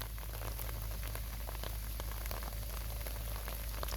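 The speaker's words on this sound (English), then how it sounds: "It's been raining heavily all day." Heavy rain falls outside a house as a dense, continuous hiss of drops spattering on surfaces, steady and enveloping throughout with no voices.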